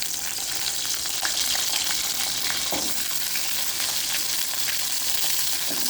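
Small peeled shallots frying in hot oil for a spicy onion chutney, a steady close sizzle and crackle with occasional stirring scrapes, no talk.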